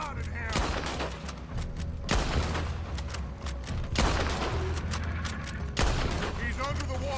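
Dense gunfire from Red Dead Redemption 2 in a swamp fight, with repeated heavy shots cracking over continuous rumbling volleys and some faint voices underneath.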